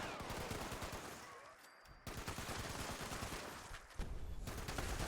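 Rapid bursts of heavy .50 caliber gunfire from a heavy gun in the video game Fallout 76, loud sustained volleys broken by a short pause and a brief gap before firing resumes.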